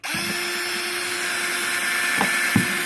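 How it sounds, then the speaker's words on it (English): A power drill whines steadily nearby as it drills holes in a plastic worm-composting bin, with a few dull knocks and bumps near the end. "you're going to drill holes"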